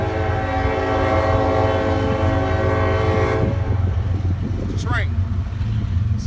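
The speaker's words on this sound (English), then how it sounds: "Train." Train passing close by, a loud sustained horn chord over a heavy rolling rumble that cuts off partway, leaving the rumble and a brief squealing sound near the end, with a person talking over it.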